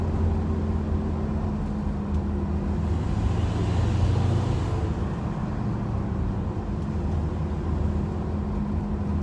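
Classic Ford Maverick cruising at normal throttle, a steady low engine drone with road and cabin rumble, even and continuous from inside the car.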